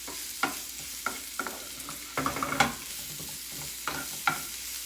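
Pork and a pile of vegetables sizzle in a pan, with short scraping stirs at irregular intervals over a low, steady fry.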